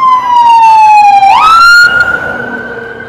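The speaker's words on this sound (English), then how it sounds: "You hear sirens." A loud emergency vehicle siren wails nearby, its pitch sliding down, then jumping up and holding before the sound drops back slightly.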